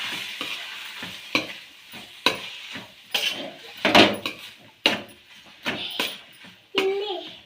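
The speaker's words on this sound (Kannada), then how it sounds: "ನಂತರ ಇರುವ ಕಾಳನ್ನು ಗರಡಿಗೆ ಹಾಕಿ ಮಿಕ್ಸ್ ಮಾಡಿಕೊಳ್ಳಬೇಕು" Sprouted horse gram stirred in a pan on the stove, with repeated spoon scrapes and knocks in a steady rhythm about once a second over a low sizzle, close and clear, while a voice talks in the background.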